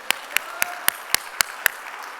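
A church congregation at a Korean worship service claps in unison, giving seven sharp, evenly spaced claps in about two seconds, with quiet room tone between the beats.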